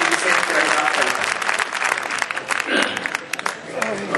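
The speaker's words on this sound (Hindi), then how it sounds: "इतनी कमजोर तालियों से नहीं, जोरदार तालियों से अनुरोध करें" Audience applause fills a Hindi poetry gathering (kavi sammelan) in Ujjain, dense and sustained clapping from a large crowd at close range for about four seconds.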